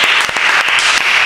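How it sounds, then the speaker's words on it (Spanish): An audience applauds, a dense sustained wash of many hands clapping at once, loud and close, with no speech over it. "Vamos a dar primero un aplauso"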